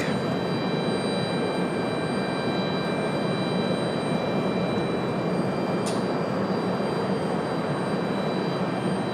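A steady, loud roar of an American Airlines jet airliner at Raleigh Durham airport fills the whole stretch without a break, with faint high tones above and no voices.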